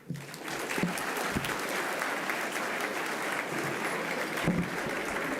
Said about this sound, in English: I take this opportunity again to thank you for clapping